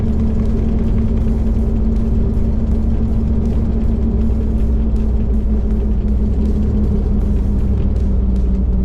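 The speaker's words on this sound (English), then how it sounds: "Oh, the motor seems pretty good." A long-forgotten Jeep Wagoneer's engine running as it drives, a loud, steady low rumble with a constant drone and no pauses, heard from inside the vehicle.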